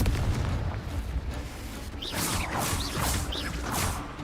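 Repeated fiery spell blasts from the Confringo curse in Hogwarts Legacy, booming low rumbles with whooshing bursts and sharp magical chirps recurring every half second or so over dense battle noise.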